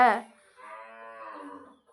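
A single cow lows loudly up close, a strong opening burst followed by a drawn-out, wavering moo that fades at the end, heard alone in a village setting.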